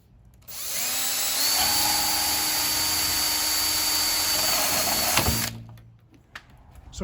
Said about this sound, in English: now we're about to drill the holes